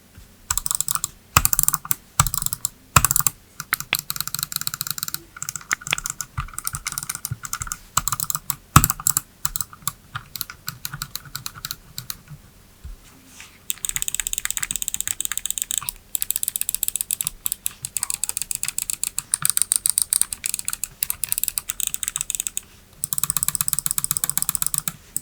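Switches of a Glorious Model I gaming mouse clicking, rapid sharp close clicks in irregular bursts, at times dense and continuous, with brief pauses between runs and no talking.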